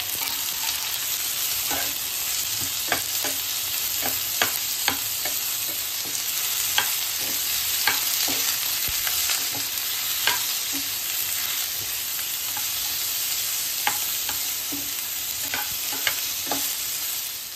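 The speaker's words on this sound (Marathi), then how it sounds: "खडे मसाले पण भाजून घेऊ. टमाटर सगळं टाकू त्याच्यामध्ये. तेल भाजून घेऊ." Whole spices and tomato roast in hot oil for misal, giving a loud, steady sizzle nearby. Frequent rhythmic spatula scrapes and stirring clicks run over it, with no one speaking.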